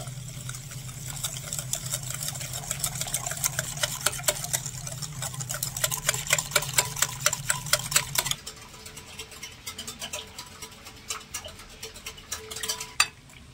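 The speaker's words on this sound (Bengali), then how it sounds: "এবারে একটা হুইস্ক দিয়ে ভালো করে মিশিয়ে নেব সবকিছু" A whisk clatters rapidly against a bowl, beating a coconut and vermicelli malai cake mixture in a dense stream of quick metallic ticks, steady for several seconds before thinning into sparser taps.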